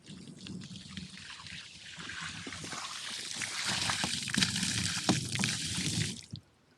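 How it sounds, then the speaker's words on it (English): Water dumped over a solar panel during winter storm preparation, a steady splashing trickle and patter that swells louder over several seconds, then cuts off abruptly near the end. "So I'm gonna dump some water on it, see if I can make a difference."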